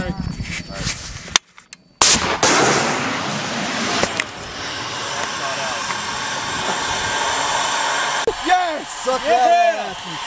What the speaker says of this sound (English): Hey, mortars are going too.